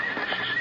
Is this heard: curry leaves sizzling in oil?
no